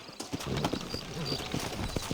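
Horse hooves clip-clop steadily in a Western frontier town setting of Red Dead Redemption, a moderate, even rhythm under a faint background bed, with a brief low voice near the start.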